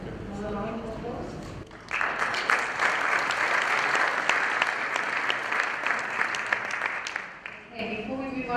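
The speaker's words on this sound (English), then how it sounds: "Another round of applause." Audience applause at a conference session, dense clapping rising after a speaker's closing words and lasting several seconds before fading as talking resumes.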